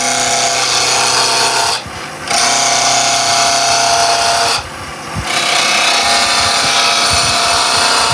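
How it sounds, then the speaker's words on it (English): Woodturning lathe cut with a gouge presented like a skew chisel, a continuous loud broadband shearing hiss of tool on spinning wood that briefly drops out twice as the tool lifts away, close and with no talking. "I changed from using the tip of the tool, that's for my roughing cuts, to a skew cut, which was using this bottom edge"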